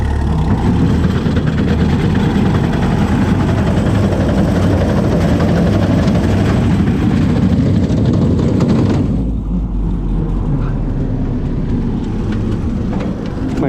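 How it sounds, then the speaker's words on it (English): A tractor engine runs loud and steady with a bush hog rotary mower engaged, giving a deep heavy rumble and dense mechanical roar that shifts abruptly to a lower, rougher drone partway through, with no talking. "put the bush hog in gear."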